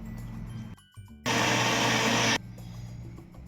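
A kitchen grinder blending tamarind masala for a Konkani jackfruit dish roars loudly for about a second after quiet rattling, then stops abruptly.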